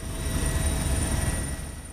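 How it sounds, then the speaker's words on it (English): A Fennec military helicopter flies over the Orléans-Bricy airbase in central France, heard from on board as a loud, steady engine and rotor drone with deep low rumble and a constant whine, no voices. "Strapped into a Fennec military helicopter, we lift off over the Orléans-Brissy airbase in central France."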